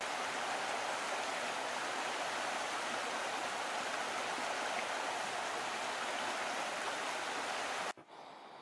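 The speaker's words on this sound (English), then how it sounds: "yes, you can still hear the river, but it's not nearly as loud as it was a year ago" The Rogue River flowing freely after dam removal, a continuous broad rushing of water that stays steady and full for about eight seconds before cutting abruptly to a much quieter background.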